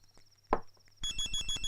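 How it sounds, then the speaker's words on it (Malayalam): A mobile phone rings indoors with a bright, repeating melodic ringtone that starts partway through, preceded by a single soft thump, at moderate loudness with no talking. "നിന്റെ ഫോൺ അടിക്കണേ."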